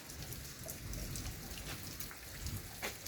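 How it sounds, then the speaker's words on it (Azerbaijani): Rain falls outdoors during a thunderstorm, a steady, fairly faint patter of drops on the surfaces around, continuous for a few seconds with scattered louder drips and nobody talking. "Yağış azaldı, gedək bağımıza."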